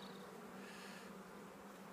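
Honey bees gathered around a queen cage make a faint, steady, unbroken buzz with no other sounds.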